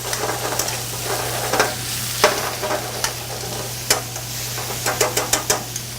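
Bay scallops sauté in a pot for a one-pot seafood fisherman's stew, giving a steady close sizzle with a low hum beneath and several sharp stirring clicks and taps scattered through, no voices.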